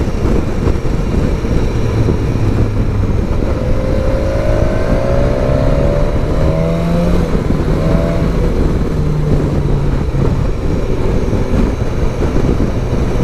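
A BMW S1000 XR motorcycle engine holds a steady throttle, a loud continuous drone with wind rush on the road and slowly shifting tones throughout.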